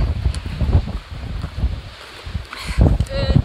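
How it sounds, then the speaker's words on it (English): Gusty wind buffets the microphone on an exposed mountain bald trail, a steady rumbling roar that surges and eases, with brief voices in the background. "The wind has been blowing us all over this trail."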